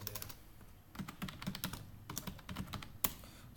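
Rapid clicks of typing on a computer keyboard, close and moderately loud, in uneven bursts with short pauses and no voices.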